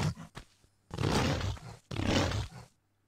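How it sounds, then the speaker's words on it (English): A wolf in the Tomb Raider video game gives two long, rough, growling roars, loud and close, separated by a short pause, with no talking over them. "Well, that's the sound of a wolf."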